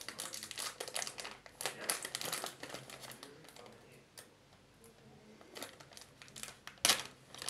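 Soft, close crinkling of a plastic packet from a wired earphones box, in uneven bursts of rustling with quieter gaps and a couple of sharper crackles.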